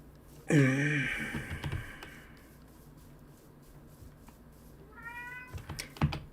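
A roommate's cat lets out one loud, drawn-out meow up close, followed by a quieter, shorter meow a few seconds later against a low indoor background hum.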